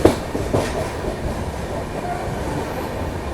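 Inside the 12267 Mumbai Central to Hapa Duranto Express, a 3rd AC coach, the train rolls past Borivali with a steady, loud rumble and faint wheel clatter, and no voices are heard.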